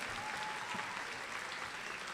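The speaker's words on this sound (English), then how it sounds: "a round of applause for Jonathan" An indoor audience at a college convocation applauds a performer, steady dense clapping filling the hall at an even level, no voices over it.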